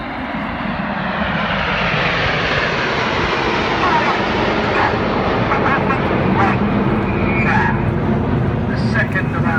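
Eurofighter Typhoon jet at an air show, a loud continuous roar that holds steady and broad throughout the pass, with a commentator's voice talking over it on the public address.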